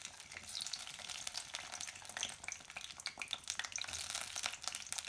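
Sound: garlic and chilies frying in hot mustard oil

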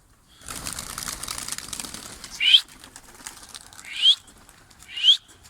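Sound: pet birds flying off, wings flapping

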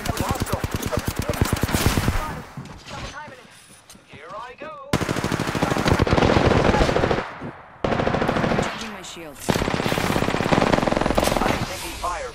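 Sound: gunfire in Apex Legends video game

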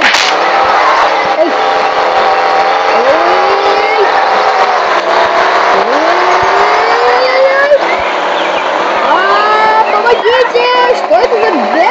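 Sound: car engine revving while driving in a video game

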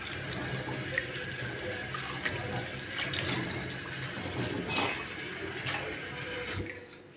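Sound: washing plums in water

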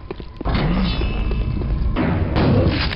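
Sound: thud of the player falling in the video game Quake VR

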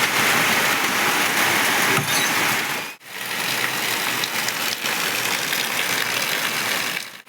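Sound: rain

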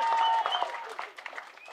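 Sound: audience applause at movie audio launch

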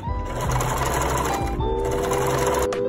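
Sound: sewing machine sewing seam in lightweight fabric

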